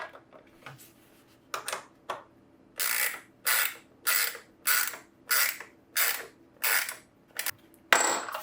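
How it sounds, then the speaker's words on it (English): Helmet earmuff attachment being tightened down on a DIY Bluetooth helmet, giving about a dozen short, evenly spaced ratcheting bursts that are close and fairly loud, with no talking. "now I'm going to tighten this down."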